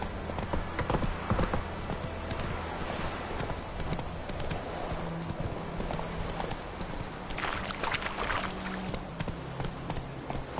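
Hooves clip-clop in a quick galloping rhythm as the horse Roach runs in The Witcher 3 video game, steady and close, with brief splashy bursts over a background of game ambience.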